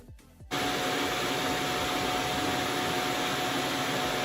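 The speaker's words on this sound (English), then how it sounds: "our vacuum has finished cleaning and is now emptying its dustbin" A Deebot X1 robot vacuum's docking station empties its dustbin: after a brief quiet start, a loud, steady roaring suction whoosh kicks in abruptly and holds constant, nearby and uninterrupted.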